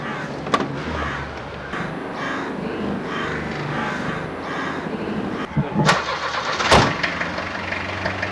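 A car engine turns over and settles into a steady mid-pitched idle, with a couple of louder revs or door-like thumps near the end and faint background noise throughout.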